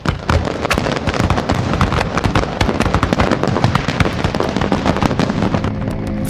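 Dense, continuous crackle and popping of a fireworks display, with sharp bursts and rapid firecracker-like reports packed closely together, loud and sustained throughout with no talking.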